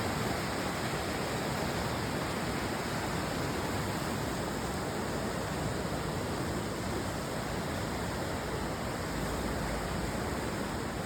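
Meltwater from thawing ice pours down in a steady, dense rush, a constant broadband roar like a small waterfall that stays unbroken and close throughout.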